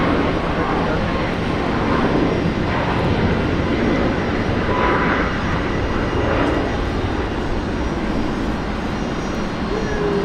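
Boeing 737 MAX 8 airliner at Brisbane Airport, its steady engine roar filling the air at constant loudness, with voices talking over it.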